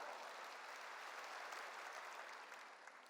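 A church congregation claps together in a dense, even burst of applause that holds steady for about three seconds and fades slightly at the end.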